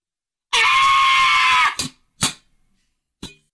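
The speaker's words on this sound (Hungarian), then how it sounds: "Megfogtad a sikítást." A person in a radio studio lets out one piercing scream lasting over a second, followed by a few short sharp gasps or squeals and silence.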